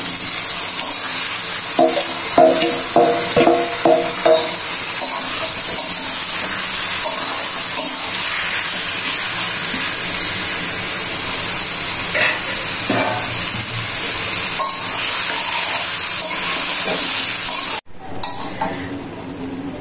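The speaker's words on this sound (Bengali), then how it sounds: "মাছ আমি ভালো করে কষিয়ে নেব।" Salted snakehead fish frying with onion in a generous amount of oil, a loud, steady sizzle running throughout with repeated scraping stirs near the pan, cutting off abruptly near the end.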